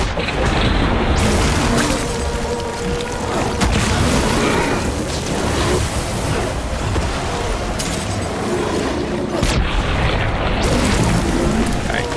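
Repeated heavy booms and crashing blasts from hematic grenades thrown in the video game Death Stranding, loud and continuous with rain-like hiss and mechanical clatter throughout.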